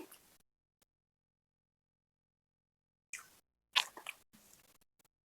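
Eating a mouthful of rice mixed with tamarind chutney and ghee, with a few close, soft chewing and biting sounds in short bursts after a quiet pause, no talking.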